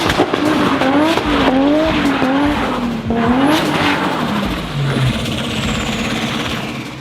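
Lexus JDM car drifting, engine revving and dropping in pitch as the tires squeal and skid continuously, loud and close, with no talk.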